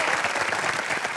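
Brief burst of studio audience applause on a comedy game show, dense continuous clapping from a crowd, loud and even throughout the short moment.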